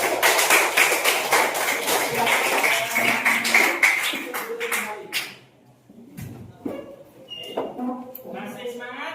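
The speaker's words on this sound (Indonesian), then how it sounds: "Tepuk tangan." Schoolchildren in a classroom lesson clap in a burst of rapid, close handclaps lasting about five seconds, with voices mixed in, then a pause followed by a few scattered claps under talk.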